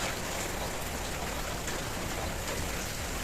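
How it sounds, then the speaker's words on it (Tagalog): Heavy rain pours down in a sudden downpour, a dense, constant roar of drops hitting surfaces close by, steady and loud with no voices. "Bigla lang pong lumakas ang ulan"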